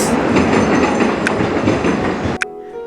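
A train running in the mobile game TrainStation 2, a loud continuous rumble with rhythmic clickety-clack, a sharp metallic click near the end, then cutting off abruptly to quiet background game music.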